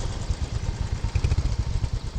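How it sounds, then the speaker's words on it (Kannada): A motorcycle engine idles nearby with a low, even, throbbing beat that stays steady and moderately loud for the whole stretch. "ಅಣ್ಣ ಸ್ಟಾರ್ಟ್ ಮಾಡ್ದ ಬೈಕು"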